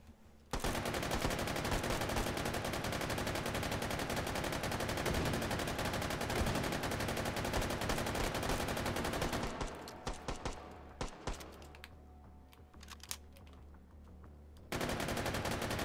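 Light machine gun blazing in H3VR, a long sustained burst that fills the first ten seconds, then choppier short bursts and scattered shots before heavy firing resumes near the end.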